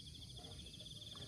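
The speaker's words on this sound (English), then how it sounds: "the Cicada have the beautiful sound." A cicada calls in a steady, faint pulsing trill, alone over low background noise, for just over a second.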